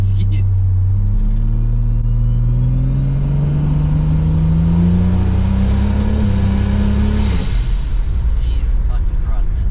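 A Ford Falcon FG XR6T with a turbo Barra engine spins its tyres, a loud, steady engine drone climbing in pitch for several seconds and then cutting off sharply. Voices talk over it.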